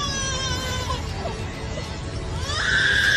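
An Australian lyrebird mimics a crying baby with wavering, whiny tonal wails that slide up and down and end in a louder, sharper cry, heard close over a faint background hiss.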